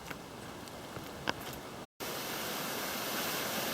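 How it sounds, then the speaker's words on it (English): A distant waterfall heard from a bush track near Bundanoon gives a steady broad rushing hiss, continuous and fairly faint, interrupted by one brief dropout before resuming slightly stronger. "I can hear a waterfall from this point"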